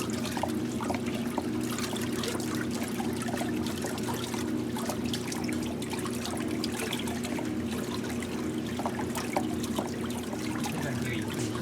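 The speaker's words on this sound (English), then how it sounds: "You can hear that motor sound pretty good." Hot tub pump motor running, a steady low hum with a constant mechanical drone under a bed of trickling, rushing water, fairly quiet and unbroken throughout.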